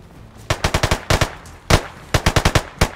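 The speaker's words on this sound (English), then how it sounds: "he is shooting back. He's shooting at me." Gunfire in the DayZ video game: quick bursts of sharp, loud shots in rapid clusters with short gaps between them.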